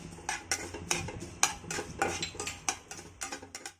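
Fenugreek seeds tipped into hot oil with cumin and mustard seeds and stirred with a metal spoon for a raw mango relish, giving a run of sharp scraping clinks and taps against the pan over a faint sizzle.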